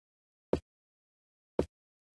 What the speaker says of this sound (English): Here I have a footstep sound